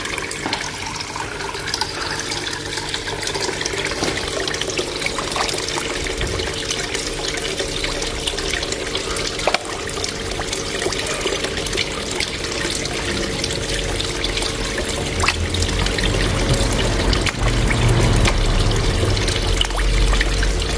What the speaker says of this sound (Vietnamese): em cho thêm cái máy thổi luồng ở đây